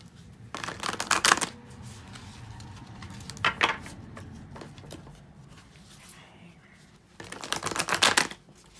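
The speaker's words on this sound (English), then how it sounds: "And then we'll pull some more oracle cards." Tarot and oracle cards shuffle in three bursts of crisp riffling and flapping, close by, separated by quieter stretches with soft handling sounds and some talk.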